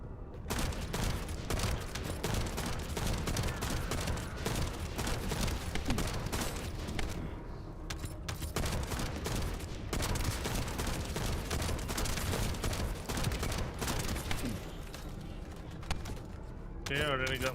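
Gunfire in The First Descendant video game, rapid, continuous automatic bursts, loud and dense for the whole stretch with brief gaps, while someone talks over it.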